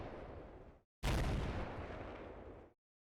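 Mortar rounds landing on a building in the Combat Mission: Black Sea war game: a loud burst of explosive booms and rumble after a brief silence, sustained for over a second before cutting off.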